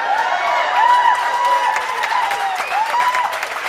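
Audience at a Superman fan celebration event applauds and cheers loudly throughout, with whoops and rising shouts from women riding over dense clapping.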